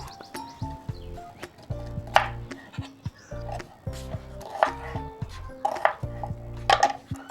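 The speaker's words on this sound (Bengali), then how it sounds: "এবার আমি আমগুলোকে কেটে নেব" A knife cuts through peeled raw green mangoes for aam papad, giving repeated crisp chopping knocks against a board in irregular bursts, close and fairly clear.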